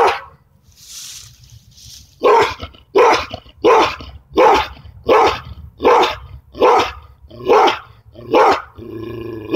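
A dog barks about ten times in a steady rhythm, loud and close, with a few softer sounds before the barking starts.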